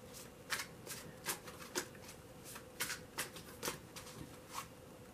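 Tarot cards being shuffled, a series of soft riffling bursts in an uneven rhythm, close and quiet with no speech.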